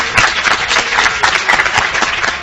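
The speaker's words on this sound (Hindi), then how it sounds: "जोरदार तालियां" A studio audience on the talent show Hunarbaaz gives loud, dense applause for the semifinalists, a steady, close wash of clapping.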